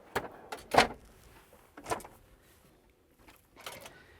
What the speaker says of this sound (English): This is our pot and pan drawer.